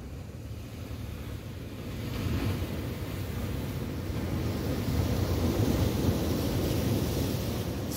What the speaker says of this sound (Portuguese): O mar hoje aqui um pouquinho agitado